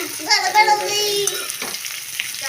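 Onions frying and scorching in a hot pan give a steady sizzle with stirring scrapes, while a voice sounds faintly in the background.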